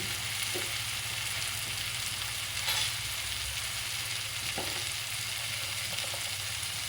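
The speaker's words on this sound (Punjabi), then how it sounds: "ਅਜੇ ਆਪਾਂ ਨੂੰ ਚੰਗੀ ਤਰ੍ਹਾਂ ਹੁਣ ਭੁੰਨਾ ਭੁੰਨਾਂਗੇ" Stuffing masala for stuffed bitter gourd fries in a pan with a faint, even sizzle and an occasional light scrape of a spoon, heard alone without talking.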